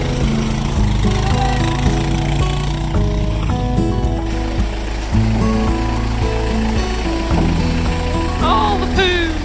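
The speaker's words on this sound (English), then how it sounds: "there was going to be a massive horse poo hoover to use" A large motorized horse manure vacuum running on a permaculture farm, a loud steady mechanical drone with strong tonal engine hum and rattling, continuous throughout with slight shifts in pitch.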